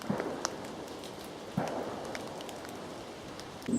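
Light autumn drizzle patters through woodland along a footpath, a soft continuous wash with a few sharper drops and faint knocks, no talk.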